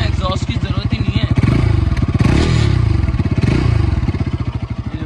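Bajaj Pulsar RS 200 motorcycle engine and exhaust blipped lightly, a close low pulsing idle that swells into a couple of short revs before settling back to a steady throb.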